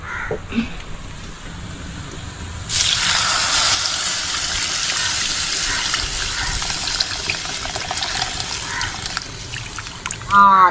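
Tamarind water, soaked and squeezed from kodampuli, is poured into a pot of sardine (mathi) curry in a hut kitchen, giving a steady splashing gush that swells partway through and runs on amid outdoor background noise.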